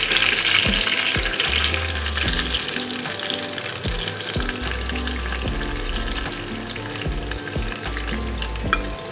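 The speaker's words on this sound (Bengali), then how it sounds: "পটলগুলো দেখো পুরো ভাজা আমার হয়ে গেছে, পুরো পারফেক্ট ভাজা হয়েছে।" Pointed gourd (potol) frying in hot oil gives a steady, loud, close sizzle with occasional spatula clinks and stirring noises throughout, no one speaking.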